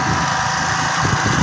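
Motorbike engine running steadily while being ridden slowly after having broken down, a continuous close rumbling drone with wind noise and no pauses over a brief stretch.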